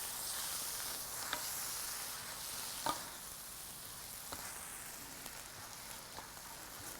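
Pinto beans being stirred into a simmering vegetarian moussaka sauce in a pan: a soft continuous sizzle with a few light spoon taps and scrapes, quiet and close.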